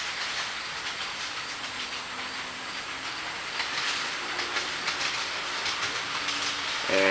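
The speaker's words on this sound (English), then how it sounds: "Now as the train enters the approaching block" A train rolls past a trackside block signal on a railway line, a steady broadband rumble and hiss that swells slightly midway and holds close by, with a brief tonal squeal near the end.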